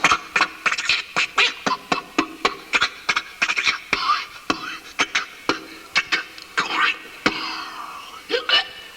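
A voice imitates Donald Duck, the cartoon character, with rapid, raspy quacking speech delivered in quick, uneven bursts.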